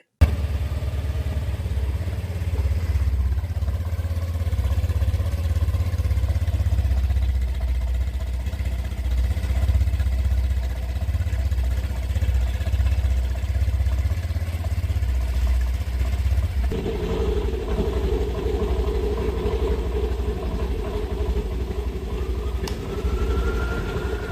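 A Honda Dio 125 scooter with a dual-outlet exhaust idles steadily with a loud, low, even engine hum, then the note rises and firms up partway through as it is revved, no talking.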